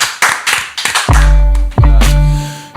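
Several sharp, close hand claps at a podcast recording land in quick succession, followed by a sustained tonal musical sting with a few more taps over it.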